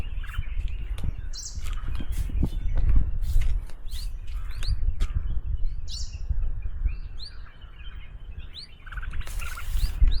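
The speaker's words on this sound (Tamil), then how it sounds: "ஏகப்பட்ட கலர் குருவி இருக்குது பாருங்கள்" Small colourful birds chirp in a dense Nilgiri tea plantation, giving repeated short high tweets scattered across the scene at moderate distance over a low rustling outdoor background.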